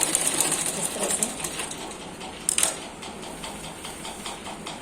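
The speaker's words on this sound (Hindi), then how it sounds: "तो हम इसको बस ऐसे ही सिलते चले जाएंगे।" A sewing machine stitching a round belt onto a dhoti salwar, with quick rattling runs of stitching, heaviest at the start and in a short burst midway, close and moderately loud.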